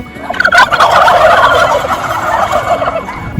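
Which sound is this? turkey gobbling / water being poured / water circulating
turkey gobbling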